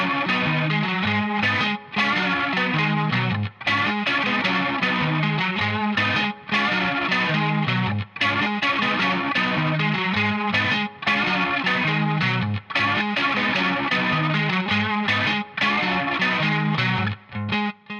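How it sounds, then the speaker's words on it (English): Distorted, chorus-laden electric guitar lead played over a looped bass line, continuous riffing with regular short breaks, full and close throughout with no voices. "Now I'm going to bring in a little backing, a little bass line I played into a looper pedal"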